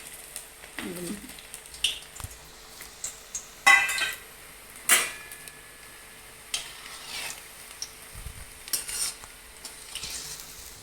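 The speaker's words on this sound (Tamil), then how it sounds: "இப்போ போட்டுக்கலாம் பட்டணம் பக்கோடாவும்" Pattanam pakoda dough balls fry in hot oil, with soft bubbling under frequent clinks and scrapes of a metal ladle against the pan, close and intermittent, no talking.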